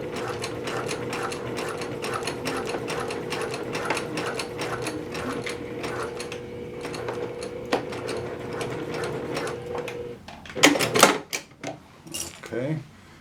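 A domestic sewing machine runs in a steady, fast mechanical chatter while stitching fabric pants pattern pieces, close and continuous for about ten seconds, then stops amid a few louder handling clatters.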